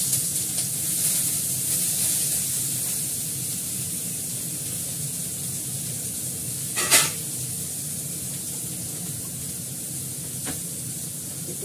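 Onions frying in oil with dried red chilli in a home kitchen, tempering for dal: a steady close hiss and sizzle throughout, with one brief louder crackle partway through.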